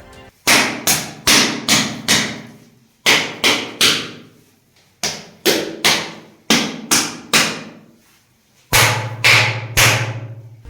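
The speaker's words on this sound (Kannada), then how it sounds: "ಇವುಗಳನ್ನು ತಟ್ಟಿದಾಗ ಲೋಹದ ಪಾತ್ರೆಯ ಶಬ್ದ ಹೊರಹೊಮ್ಮುತ್ತದೆ" Sharp knocks on stone vessels struck in quick bursts of four or five, each hit ringing briefly with a bright, metallic tone before fading, with pauses between groups.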